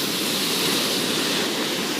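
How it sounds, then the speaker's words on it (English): Sea water surges underneath rocks beside a cave at Santa Cruz beach, a dense, continuous rushing hiss that stays loud and even for about two seconds, with no talking. "The sea goes underneath us."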